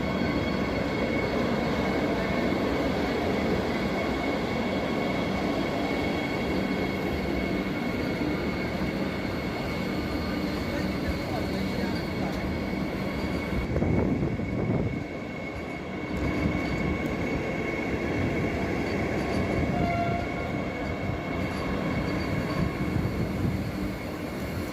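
A Vande Bharat train at Rewari railway junction, a continuous loud rumble of rolling wagons and rail noise with faint squealing, sustained and close throughout without speech.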